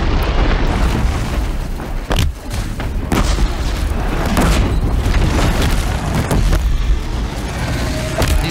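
Loud explosions from bombs in the Horizon Zero Dawn video game: a sharp boom near the two-second mark and several more blasts scattered through a dense, continuous roar of game noise, with no talk.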